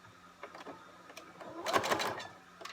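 A sewing machine stitching a fabric face mask: bursts of rapid needle clatter, the busiest run in the middle, close and moderately quiet with pauses between, no talk.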